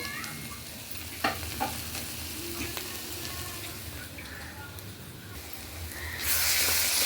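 Pointed gourd mash cooks down in a pan, a soft steady sizzle and hiss with a couple of faint utensil taps, swelling into a brighter, louder sizzle in the final second.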